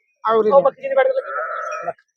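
A goat bleats close by at a village goat fair, a short call followed by a longer, wavering bleat.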